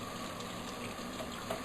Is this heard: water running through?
yes